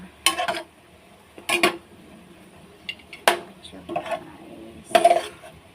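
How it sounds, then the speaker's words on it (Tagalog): Metal utensils clatter and scrape in a pan as vegetables are tossed with dried fish and shrimp paste, five distinct bursts of clinking spread across a quiet kitchen background, close and moderately loud. "Nilagyan na natin siya ng tuyo at saka bagoong na alamang paghahalo-haloin na natin guys para maging malasa"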